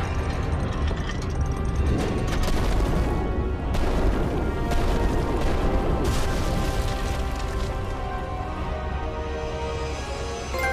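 A dense, heavy crashing rumble with repeated booming impacts, loud and continuous, as a giant ball smashes through a door amid game sound effects in God of War.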